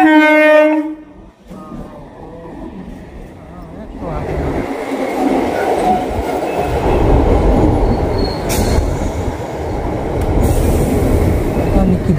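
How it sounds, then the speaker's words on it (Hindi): A train pulls into a station. A loud horn blast opens, then a rumbling roll of wheels and carriages builds with occasional metallic squeals, and people can be heard talking nearby. "ये देखो ट्रेन आ रही है"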